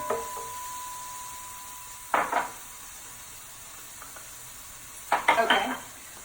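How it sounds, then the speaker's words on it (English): Cauliflower going into a hot pan, two short bursts of sizzling and stirring rattle separated by quiet, over a faint background hiss. "so I'm putting in the cauliflower"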